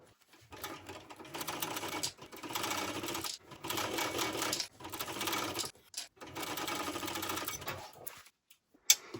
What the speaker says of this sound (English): And then stitch it with a 1/4 inch seam allowance.